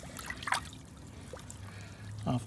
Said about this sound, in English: So I just sit this in the water and just sort of work my fingers around right now, trying to get some of the soil off the